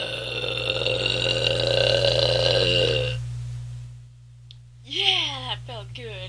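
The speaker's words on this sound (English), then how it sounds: "Here are going to be the real belches of mine." A woman lets out loud, drawn-out belches, the first long and resonant, the second starting after a short pause and breaking into a choppy, gurgling burst, over a steady low hum.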